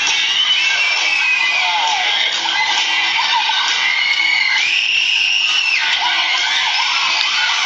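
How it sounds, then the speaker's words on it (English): Frenzied screaming of pop music fans, a dense wall of high shrieks and whoops from a large crowd, loud and continuous throughout, with a sharper surge of shrill voices midway. "The frenzied screams of the fans."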